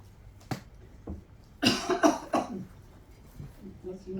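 A sudden coughing fit interrupts a Spanish-language speaker at a commemorative event: a sharp cough, then a cluster of several harsh, loud coughs in quick succession, trailing into quieter throaty sounds, close to the microphone.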